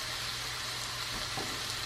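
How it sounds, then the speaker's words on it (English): Onion cooking in a pan until light and translucent, giving a steady close sizzle and crackle that runs continuously with no voices over it. "we're gonna cook the onion until it is light and translucent"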